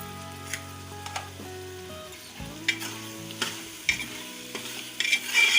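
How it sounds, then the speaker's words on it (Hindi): Cumin seeds fry in a pan of oil, stirred with a utensil, giving steady sizzling with scattered scraping clicks and taps and no one talking. "इसके बाद हल्का हल्का भूनता रहना है।"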